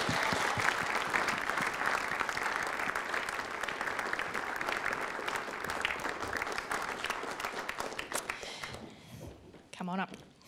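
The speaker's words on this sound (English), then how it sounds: "Give her a round of applause." Audience applause for a teen writing award second-prize winner as she walks to the stage at a Christian writers' event; sustained loud clapping that tapers off, with brief talk at the end.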